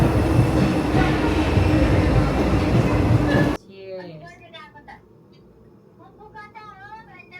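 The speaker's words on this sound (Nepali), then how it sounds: "आ गया ट्रेन आ गया" A train pulls into a station in Paris with a loud, dense rumble and rattle of wagons that cuts off abruptly halfway, leaving quieter station ambience with people talking.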